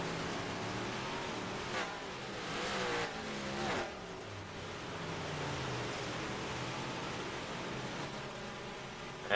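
Big Block 358 race cars on a track at night, a steady distant drone of engines with swelling passes and revving, heard from afar as a continuous buzzing roar.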